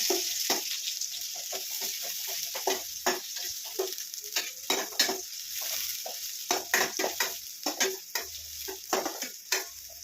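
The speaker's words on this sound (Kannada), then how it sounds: "ಈರುಳ್ಳಿ ಹಾಕ್ಕೊಂಡು ಇದನ್ನು ನೀಟಾಗಿ ಈ ಥರ ಫ್ರೈ ಮಾಡ್ಕೊಳ್ಳೋಣ" Onions frying in a pan for chicken curry, a steady bright sizzle punctuated by many sharp scraping and tapping strokes of a spatula against the pan, close and irregular, growing busier toward the end.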